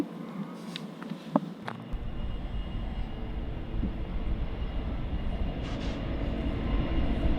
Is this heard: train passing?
yes